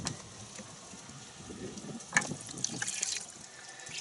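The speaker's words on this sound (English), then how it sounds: "I'm going to dump this out slowly." Dirty car wash bucket water poured out slowly, a faint trickling and splashing that swells into a brief louder gush midway, then settles into light running water.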